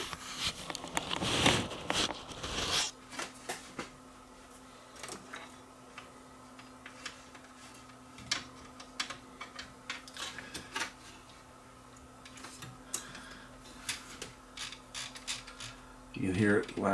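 An Aiwa M110 multi-system VCR tape mechanism latches with a few quiet clicks and creaks, following an early burst of mechanical rattling, all close and faint.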